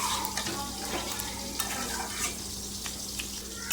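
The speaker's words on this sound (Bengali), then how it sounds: "আর একটু ভালো করে নাড়াচাড়া দিয়ে নেব।" Softened spinach stirred in a hot pan, with steady sizzling, scraping spatula strokes and occasional light knocks against the pan.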